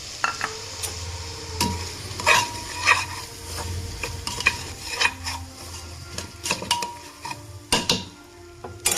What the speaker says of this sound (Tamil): இப்போ வந்து நம்ம அந்த கோதுமை ரவையை சேர்த்துடலாம்.